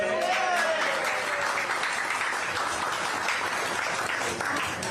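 A campaign crowd at a dairy applauds in a steady, moderately loud round of clapping, with a voice briefly audible over the start.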